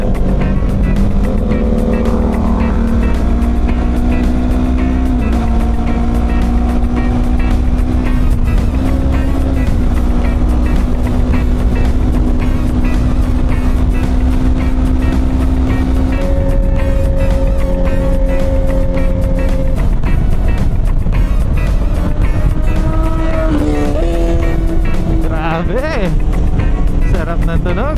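Venturi 500 car engine running loud and close with a continuous roar, pitch climbing and dropping through several revs and shifts, with occasional clatter and wind noise.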